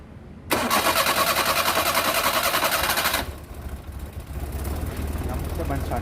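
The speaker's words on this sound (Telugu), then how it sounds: "బండి స్టార్ట్ అయ్యింది" A Maruti 800 car engine with a starting fault cranks briefly, then catches and runs loud and steady for a few seconds before dropping to a rougher, quieter idle, close to the microphone.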